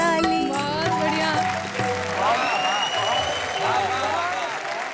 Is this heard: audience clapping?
yes